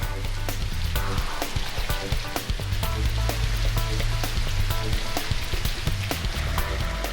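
Artificial rain pours from an overhead rig onto a test course, a dense continuous hiss of drops striking the ground with scattered sharper patters throughout, steady and close.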